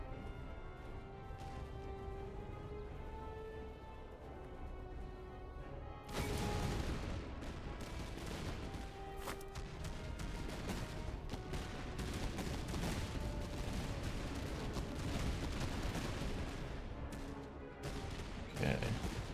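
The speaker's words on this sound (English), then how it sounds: "I'm gonna line my dragoons up to start shooting at them" Dragoons fire musket volleys in Master of Command, a Napoleonic-era battle game; after a quieter stretch, a loud crackling burst of gunfire erupts and continues as scattered ragged shots and crashes over a steady background din.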